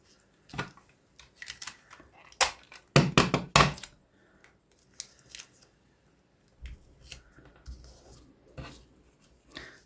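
Card stock being cut for a Z fold card gives scattered sharp snips and clicks, some in quick clusters, with handling noise and soft talk between cuts.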